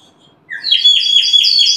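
A water bird-whistle toy, blown into, warbles in a quick, bright trill of repeated chirps, starting after a brief pause and continuing steadily, close and fairly loud.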